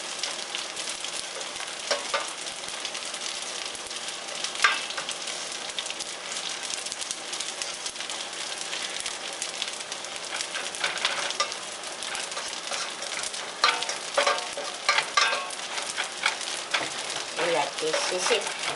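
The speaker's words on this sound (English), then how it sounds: "So when you put fish, you can hear this sound, right? Sizzling." Sweet anchovies sizzle and crackle steadily while frying in hot oil, a continuous close hiss with scattered pops and occasional stirring scrapes throughout.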